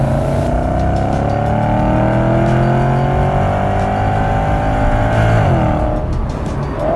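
A Porsche Panamera's 4.8-litre naturally aspirated 400-horsepower V8 revs hard under acceleration, a loud continuous roar with rising pitch sweeps and a brief shift near the end.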